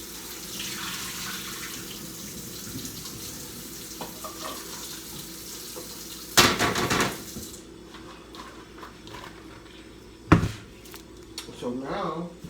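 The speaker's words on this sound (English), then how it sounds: "I still like to rinse all my vegetables, so I will rinse them real quick. Hit them with the cold water." Running cold tap water splashes steadily into a strainer of vegetables, with a few louder bursts and clatters as the stream shifts, heard close up.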